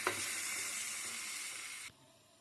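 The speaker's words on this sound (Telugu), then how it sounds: "చికెన్ అయితే మగ్గుతుంది" Chicken cooking with tomatoes in a pan gives a steady, close sizzling hiss that holds evenly, then cuts off abruptly near the end, with no voices.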